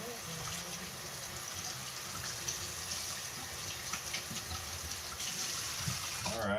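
A container is rinsed under running water, a steady hissing gush that fills the whole stretch at moderate loudness with faint clatters mixed in.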